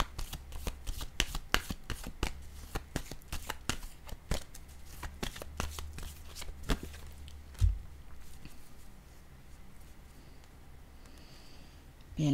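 Tarot cards being shuffled by hand in a quick run of crisp riffling slaps that fire steadily through most of the span, close and clear, then thinning out to quiet handling near the end.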